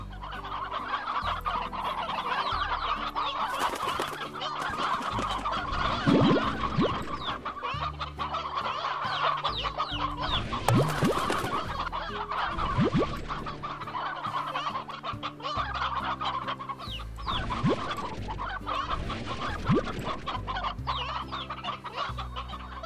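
Chickens in the video game Slime Rancher cluck steadily and densely throughout, several birds at once over a continuous game soundtrack with intermittent bursts of louder clucking.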